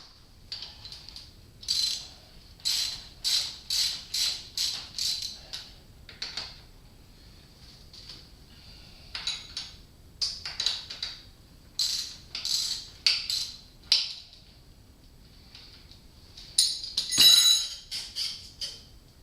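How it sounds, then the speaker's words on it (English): Bolt loosened on a GS550 cafe racer motorcycle fork before the fork tube slides out: quick bursts of metallic ratchet clicking and rattling, repeated in short clusters with pauses, close and moderately loud. "as I loosen this up, I should be able to slide that fork tube right out."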